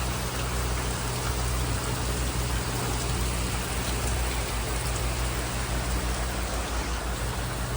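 Steady rain falls on and around a boat in the rainy season, a dense, even hiss with a low rumble underneath that holds unchanged throughout.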